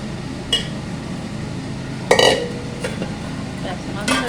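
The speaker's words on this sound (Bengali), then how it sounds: "মাছটা দিয়ে দিল, দিয়ে ঢাকনা দিয়ে দিল" A metal lid goes onto a pot of fish curry with ridged gourd on a home kitchen stove, making a few sharp clinks and clatters against a low background hum, with one louder clank in the middle.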